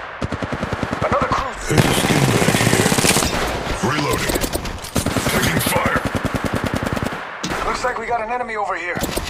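Rapid automatic gunfire in an Apex Legends Mobile battle, dense loud bursts filling almost the whole span with brief gaps, with voices speaking over the shooting.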